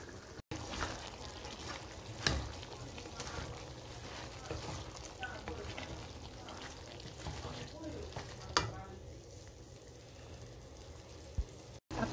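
Chopped cabbage stir-fried with beef in a pan: a steady soft sizzle with occasional scraping stirs and utensil knocks, fairly faint, with brief gaps.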